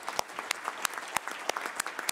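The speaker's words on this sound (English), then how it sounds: "I'd just like to ask you to give them all a round of applause" Sparse, individual handclaps from a small audience applauding a roundtable panel at the World Health Assembly, distinct sharp claps spaced irregularly at moderate volume.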